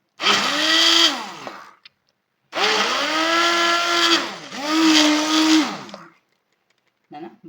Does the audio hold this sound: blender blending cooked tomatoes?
yes